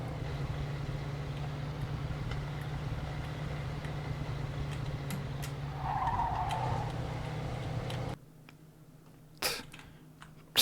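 A car in Mafia 2 driving with its engine droning steadily, a brief tire skid squealing near the middle, then the sound cuts to near silence with a few faint clicks, quiet overall and with no talking.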